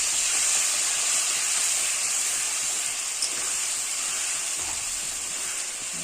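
A paste of ground cumin, chilli and turmeric with salt fries in a pan, giving a steady close hiss that stays even throughout, with a faint tap or two and no talking.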